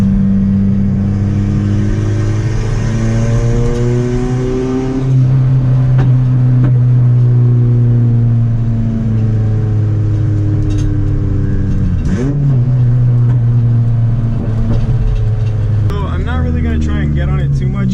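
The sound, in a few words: straight-piped turbo car exhaust revving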